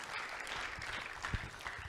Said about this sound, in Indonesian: Tepuk tangan yang meribat Tuhan Yesus Kristus